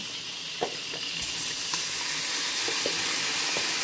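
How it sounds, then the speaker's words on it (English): Shrimp seasoned with garlic salt land in a hot cast iron skillet, a steady hissing sizzle with a few soft clinks and taps as they settle. "So now I'm going to go ahead and add my shrimp"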